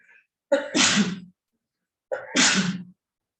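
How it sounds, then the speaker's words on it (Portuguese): Two sharp sneezes in quick succession from a teacher during a sociology lecture, each one a short intake followed by a loud burst, close up with silence around them. "estou espirrando muito hoje"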